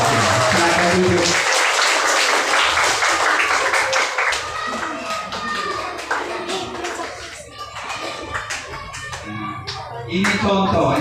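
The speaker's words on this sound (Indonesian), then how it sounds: "tepuk tangan" An audience at a Mass with a meditation group claps their hands, starting as a dense burst of applause and then thinning into scattered individual claps before a brief swell at the end.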